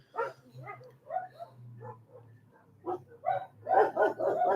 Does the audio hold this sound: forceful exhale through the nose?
no